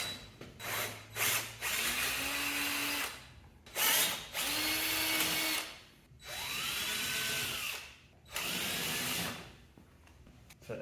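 A power drill with a letter J bit bores into a part during a Wilwood brake install on a V8 Fiero, running in four or five loud whirring bursts separated by short pauses, close up and with no talk.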